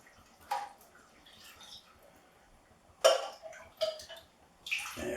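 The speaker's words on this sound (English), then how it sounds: "just pour one into the other, give it a swirl around, get all the rest of that lovely tomato-ness out" Beef stock for a slow-cooked spaghetti bolognese is poured from one pan into another and swirled to rinse out the tomato. Quiet sloshing and splashing comes in short bursts with a few metallic pan clinks.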